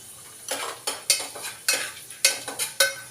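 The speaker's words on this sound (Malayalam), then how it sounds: "നമുക്ക് നല്ലൊന്ന് കുറച്ച് ഇളക്കി കൊടുക്കാട്ടോ" Chana dal frying in hot oil as a spoon stirs it in a pan, giving about eight sharp scraping strokes at an uneven pace over a soft sizzle, close and clear with no talking.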